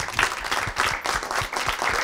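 A studio audience at a Turkish comedy show applauds to welcome a guest, with a brief burst of clapping mixed with crowd noise.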